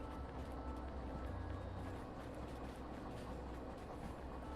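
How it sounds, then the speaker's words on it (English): A train rumbles past a track switch in the railway game Derail Valley, with a low continuous roll and faint rhythmic clicking of wheels over the rails, moderately distant and steady. "we need to wait for our train to pass by this switch right here"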